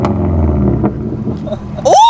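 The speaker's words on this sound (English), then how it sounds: "Boys want to hear some sick revs?" A 2010 Subaru WRX GR hatchback with a 3-inch straight-pipe exhaust rumbles loudly up close, holding a steady, deep idle before a sharp rev climbs at the end.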